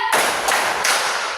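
Children clap hands in a classroom clap game: three sharp, loud claps in a steady rhythm, close by, with no talking.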